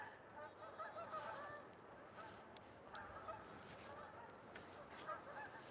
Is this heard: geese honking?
yes